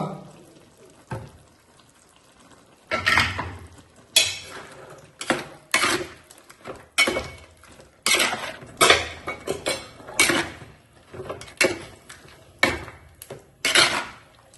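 A metal spoon repeatedly scrapes and clanks against a pan while chicken is stirred into palak masala, giving irregular bursts of clattering strokes close by with quieter pauses between them.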